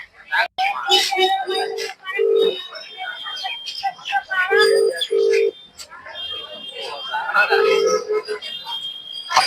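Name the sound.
telephone ringing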